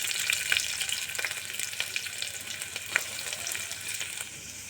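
Chopped onions and green chillies frying in hot oil inside a pressure cooker, a loud continuous sizzle with a few brief crackles and stirring scrapes close by, and no voices.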